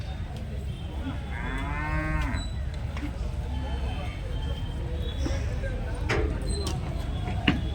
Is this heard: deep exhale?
no